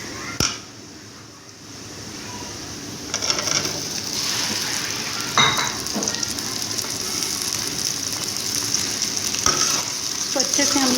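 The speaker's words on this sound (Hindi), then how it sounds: "मैंने मीडियम फ्लेम रखी थी है और मैं इनको फ्राई कर रही हूँ।" Okra and onions sizzle in a pan over a medium flame, a loud, steady crackling fry that swells after a few seconds as spoon stirring and scraping break in now and then.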